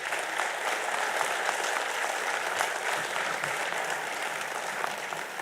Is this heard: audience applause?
yes